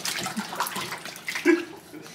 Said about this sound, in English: Splash in the tub.